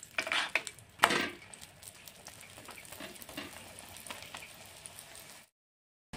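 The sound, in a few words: egg paratha frying in mustard oil in a pan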